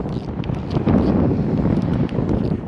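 Strong wind buffets across a beach during surf fishing, a loud continuous rushing roar of wind noise hitting the microphone, with no talking.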